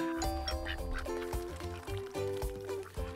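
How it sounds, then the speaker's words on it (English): Several ducks quack repeatedly and close by while eating dispensed treats, overlapping nasal calls in quick irregular bursts with a few honking notes, lively and loud, no talking over them. "we got more duck friends coming to enjoy the treats"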